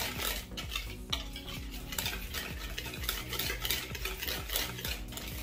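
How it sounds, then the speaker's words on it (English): Dry cake ingredients being whisked in a bowl, a steady scraping and stirring rhythm with repeated light taps of the whisk against the bowl, close and continuous. "I'm gonna just whisk up these dry ingredients just to make sure everything is good and combined before we start mixing our cake."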